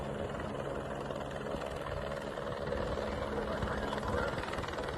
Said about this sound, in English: here I'm showing here the helicopter